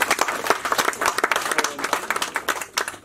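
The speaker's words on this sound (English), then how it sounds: "We have to give a hand of applause today." Audience applause at a graduation ceremony, a dense, steady wash of many hands clapping throughout, moderately loud and close, with no speech over it.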